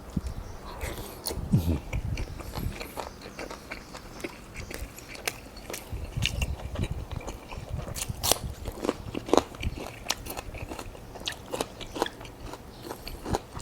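Close, wet biting and chewing of fatty beef with sticky rice, steady crunchy mouth sounds with irregular sharp clicks and smacks continuing throughout, with no talking.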